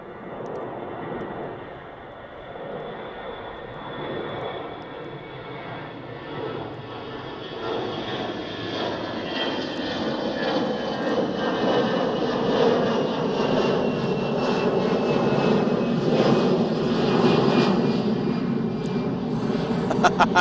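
An easyJet airliner taking off at Manchester Airport, its engines building from a distant whine into a loud, sustained roar that swells and stays strong as the jet climbs away.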